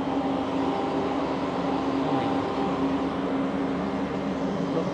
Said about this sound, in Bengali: ট্রেনের ইঞ্জিন দেখছেন?